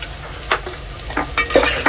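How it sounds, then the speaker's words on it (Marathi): Ginger garlic paste frying in a pan for chicken rassa, a close sizzle broken by several quick spoon stirs and scrapes in a short burst, no talk. "आता त्याच्यामध्ये आपल्याला अद्रक पण टाकून द्यायची अद्रक लसूणची पेस्ट मी दोन चमचे टाकते"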